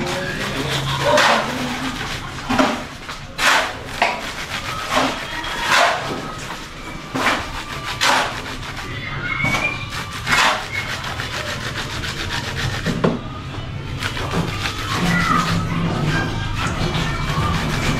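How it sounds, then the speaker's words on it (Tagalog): A knife slices through vegetables for a home-cooked Filipino lunch of corn and vegetables, giving repeated scraping, rasping cuts with uneven rhythm and scattered sharp taps, close and fairly loud with no talking. "so gayatin ko na lahat to"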